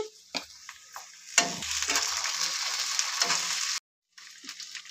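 Chopped onion and black cumin (kalonji) fry in hot oil in a pan, a steady broadband sizzle broken by a few sharp clatters and stirring scrapes, cutting out briefly near the end before resuming.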